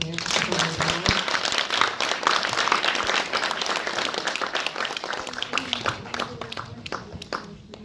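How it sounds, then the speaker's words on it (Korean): Festival audience applause for the director after a post-screening Q&A at the Jeonju International Film Festival. The sustained, crisp clapping thins gradually toward the end while voices talk over it. "감독님께 박수 한번 보내주세요"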